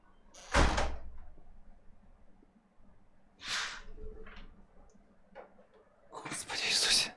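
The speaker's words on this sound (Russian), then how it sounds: "Подождите, я закрою окно" A window being shut indoors: two sharp bangs of frame and sash about three seconds apart, with quieter knocks between them and a louder rattle at the end. Street noise from a car wash outside sits faintly underneath.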